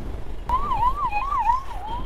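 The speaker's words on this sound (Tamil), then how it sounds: "ஆம்புலன்ஸ் வருது, காப்பாற்று கடவுளே." An ambulance siren wails on a road during a motorbike ride, a warbling up-and-down tone that starts abruptly and carries on over low road and engine rumble, moderately near.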